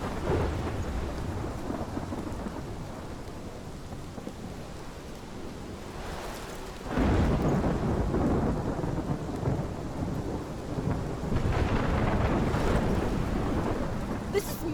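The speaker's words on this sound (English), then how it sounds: "This is my storm." A thunderstorm in the Life is Strange video game: steady heavy rain hiss with low rolling thunder that swells loudly around the midpoint and rumbles on to the end, with no talking.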